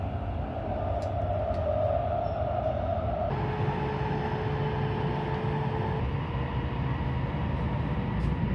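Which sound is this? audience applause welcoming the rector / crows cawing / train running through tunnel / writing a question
train running through tunnel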